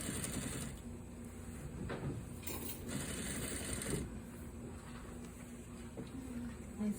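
Sewing machine stitching a pant waistband, a quiet rapid mechanical chatter in short bursts with brief pauses, close by.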